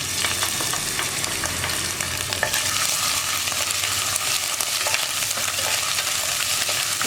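Crushed ginger and garlic frying in hot oil for a chickpea curry, with a continuous dense sizzle and occasional scraping stirs in the pan, steady and close with no talking.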